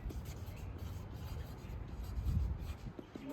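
A pen scratching out a written measurement on paper, a faint steady rubbing and scribbling close by with no talk.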